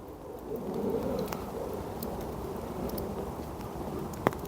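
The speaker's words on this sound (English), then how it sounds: "it's the heavy raindrops coming off the trees and hitting the rods here" Heavy raindrops falling from trees onto fishing rods beside a Cheshire mere during pike fishing, a steady patter of rain with scattered sharper ticks and one distinct louder tap near the end.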